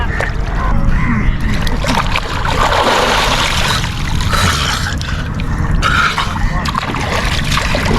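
People bathing in the Ganges River on a cold winter day, water splashing and sloshing continuously near the microphone amid a busy, noisy riverside crowd.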